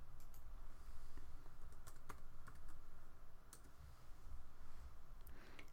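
Typing on a computer keyboard to enter a command in AutoCAD, a steady run of light, quick key clicks over a constant background hiss, with no voice.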